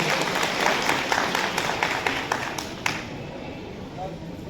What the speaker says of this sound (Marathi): त्यांचं देखील एकदा सर्वांनी टाळ्या वाजवून स्वागत करायचं